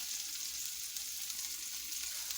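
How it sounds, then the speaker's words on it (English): Salisbury steak patties sear in a hot pan with a steady, faint, airy sizzle and crackle, with no voices over it. "And you all sear these maybe for about 5 minutes on each side."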